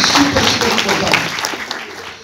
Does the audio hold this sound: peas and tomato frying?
no